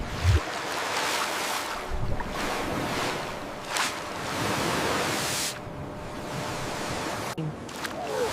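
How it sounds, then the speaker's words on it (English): Ocean waves surge and rush at sea, with wind buffeting the microphone in uneven gusts; a steady roar swells and drops over several seconds with no voices. "The sound of howling wind intensifies, punctuated by the rhythmic slapping of waves against fur."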